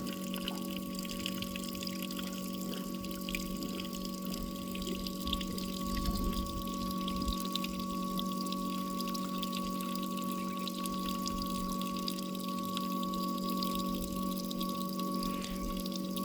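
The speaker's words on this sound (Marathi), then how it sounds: "पाणी चालू झाले बघा आता यायला." Water from a borewell pipe pours steadily into a well, a constant, faint rushing flow with a steady hum underneath and no voices throughout.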